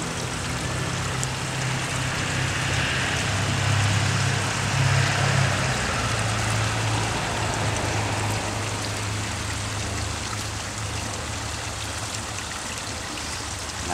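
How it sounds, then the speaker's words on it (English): Water is poured generously around the base of a freshly planted cold-hardy fig tree, giving a steady, close trickle and splash into soil that runs unbroken and without speech. "Now I just water it."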